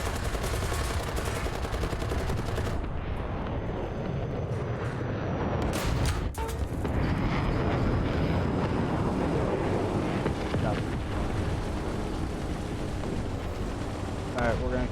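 Rapid bursts of video game gunfire fill a busy combat scene, with dense loud shots running throughout and players talking over them.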